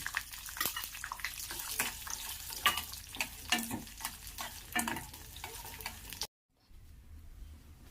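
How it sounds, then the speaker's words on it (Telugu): Cashews and raisins frying in a pan for jaggery pongal, a steady close sizzle with stirring scrapes for about six seconds, then a short silence and quieter frying at the end. "జీడిపప్పు కొద్దిగా ఫ్రై అయిన తర్వాత ఎండు ద్రాక్ష వేసుకొని కొద్దిసేపు ఫ్రై చేసుకోవాలి"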